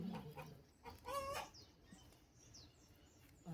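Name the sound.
chickens clucking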